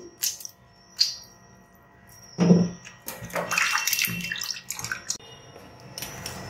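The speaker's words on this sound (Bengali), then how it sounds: "এই আর মাছ আপনারা লেবু আর নুন দিয়ে ভালো করে এটাকে ধুতে হবে।" Aar fish being rinsed in water with lemon and salt, a few splashes and sloshing bursts, one louder slosh in the middle, then continuous handling and rattling, close and fairly quiet with no talking.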